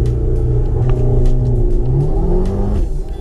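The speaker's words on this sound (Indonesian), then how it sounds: "Nanti raungan pertama mobilnya bakal jadi kedengeran lebih sangar" Mercedes-AMG engine roaring loudly on start-up, a deep sustained rumble with a rising rev partway through, close and continuous with no talk.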